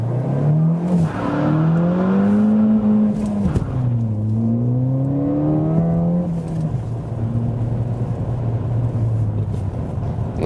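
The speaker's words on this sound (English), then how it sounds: "Of course, we had a lot of wheel spin now, but just to get an impression of the acceleration." A 2015–2016 Ford Fiesta ST launches hard from about 4000 rpm with wheel spin on a wet road. The loud engine note climbs, drops at a gear change, climbs again, then settles into a steady drone.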